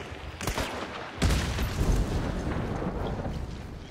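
A grenade in a video game goes off with a sudden heavy boom, followed by a rolling rumble and scattered crackling debris that gradually thins out.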